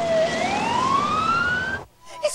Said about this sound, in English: A basic life support CM ambulance was immediately dispatched.